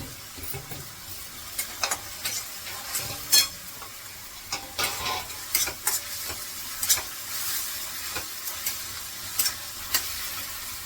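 Onion and tomato sautéing in a pan, a steady close sizzle broken by repeated spatula stirs and scrapes, with no talking.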